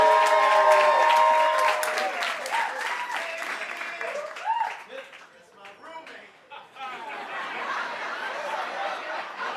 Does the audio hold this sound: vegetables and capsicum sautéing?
no